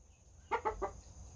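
A pet rooster gives three short, close clucks in quick succession, each a soft throaty burst, then falls quiet against faint background hum.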